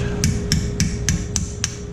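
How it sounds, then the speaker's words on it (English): Six sharp metallic hammer strikes on a Jeep TJ ball joint, driven through a needle-nose punch, land at an even, steady pace over a low mechanical hum, each one a bright, ringing clank. "Use the hammer and the needle nose to drive it out."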